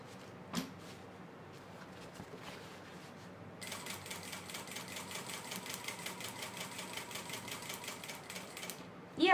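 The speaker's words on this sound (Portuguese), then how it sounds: "Procura costurar o mais correto possível na linha" A sewing machine stitching a quilted placemat, quiet handling at first, then a steady rapid whirring run of stitches that continues for several seconds, faint and close.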